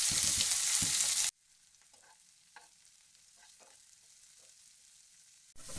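Finely chopped beans and onion for veg chowmein hit a hot pan with a loud burst of hissing frying, then settle into a quieter sizzle with occasional stirring scrapes, close by and without talk.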